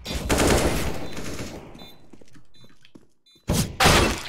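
Gunfire from the Valorant video game on the Bind map comes in loud dense bursts of rapid shots, with a quieter stretch of clicks and game effects in between before another heavy volley.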